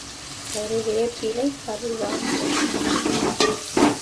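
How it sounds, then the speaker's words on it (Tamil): Curry leaves drop into hot oil for a dried fish curry, and a rising, hissing sizzle follows a voice talking at the start, with a few sharp crackles near the end. "கொஞ்சம் கருவேப்பிலை போட்டுக்கிறோம்"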